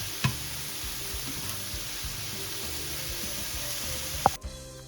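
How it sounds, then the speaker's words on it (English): Onion and mushrooms fry in a pan while being stirred together, a soft, low sizzle with occasional light clatters of the utensil, fairly quiet and with no talking. "So now we're gonna add some onion to our mushroom. Mix it all together."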